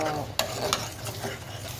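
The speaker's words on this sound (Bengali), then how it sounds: "যেই কড়াইটার মধ্যে মশলাটা ভাজা ভাজা করেছি, সেটার মধ্যে আমি সুন্দর করে একটু ভেজে নিচ্ছি" Spice masala for a tilapia curry frying in a wok, with a few sharp spoon knocks and scrapes over a low continuous sizzle, close up.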